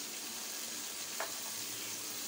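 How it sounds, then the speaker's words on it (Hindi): Mutton koftas gently frying in curry masala in a pan, a steady soft sizzle with one brief clink of a utensil midway. "ऐसा करने से हमारे कोफ्ते जो है वो साथ साथ फ्राई भी होते जाएंगे।"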